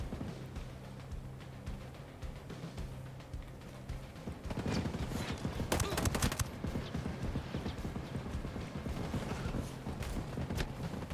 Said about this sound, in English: That's a turret gun.